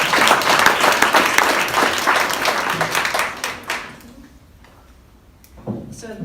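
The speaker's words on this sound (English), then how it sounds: "I'd like to start by giving a huge applause to Elizabeth" Applause for a volunteer at a presentation on creating an access plan: a dense burst of many hands clapping, fading over about four seconds into near quiet, with a few faint taps afterward.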